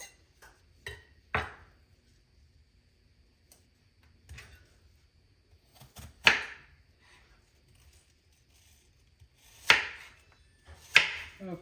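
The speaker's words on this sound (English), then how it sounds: "So we're just going to get those chopped up. I'm using a Granny Smith apple." A knife chops a Granny Smith apple on a board for Amish apple fritter bread, giving sparse, sharp, close thuds, single or in quick pairs, with long quiet gaps between them and no talk.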